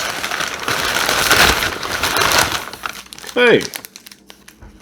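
Packing paper crumples and crinkles loudly and steadily while a prop replica pack is unboxed, then fades out, followed by a short spoken word and a few faint rustles.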